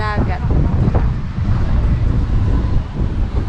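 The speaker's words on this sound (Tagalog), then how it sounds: "Sarap ng hangin." Steady wind buffets the microphone in a constant low roar by the shore, with a voice briefly heard at the start.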